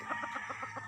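A handful of backyard roosters and hens give soft, repeated clucks in a steady rhythm, close by and fairly quiet, with no talk.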